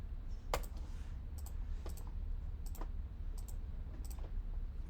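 Keys pressed on a graphing calculator, about eight sharp faint clicks in loose irregular pairs against a quiet room hum, no talking.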